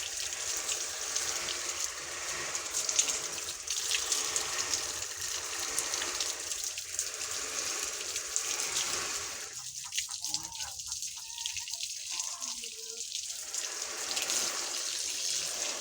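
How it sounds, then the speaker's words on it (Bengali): Water sprayed onto the gears of a bicycle during washing, a steady hissing gush close to the listener that briefly drops and changes character midway as the stream shifts, with no voices over it. "দেখেন কিভাবে আমি গিয়ারের মধ্যে পানি দিচ্ছি"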